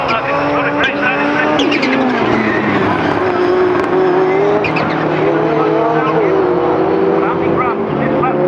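Rallycross race cars at Croft, including a 580 bhp machine, roar down the back straight with a loud, continuous engine howl whose pitch rises as they accelerate, overlaid by a commentator talking throughout.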